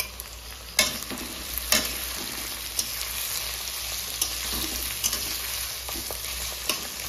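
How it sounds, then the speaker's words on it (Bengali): Onions sizzle steadily in a hot pan on a gas stove, with a spatula scraping and stirring every second or so over the constant crackle. "পেঁয়াজ ভাজা হয়ে গেছে"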